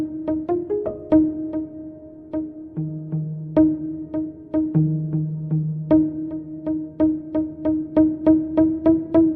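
Muted piano notes from the Woodland Piano Kontakt instrument with the sustain pedal down, a melodic sequence of soft plucked tones whose sustained notes overlap and ring on in an atmospheric wash, played alone with no talking.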